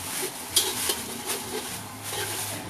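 A wok of Thai noodles tipped in a restaurant kitchen to pour off excess water, giving a steady hissing sizzle with light scraping and metallic clinks from the pan, close and continuous.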